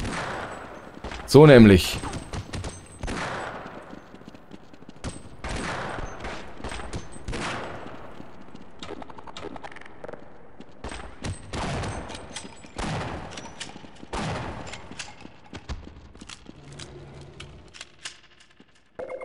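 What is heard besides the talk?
revolver gunfire in video game Half-Life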